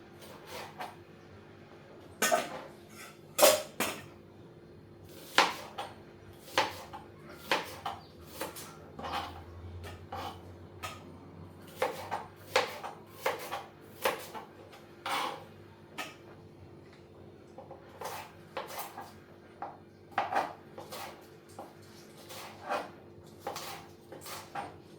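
Beef being cut up on a board in a home kitchen, a quiet, uneven series of sharp knife knocks and clacks spread across the whole stretch, with the faint rattle of utensils and dishes in between.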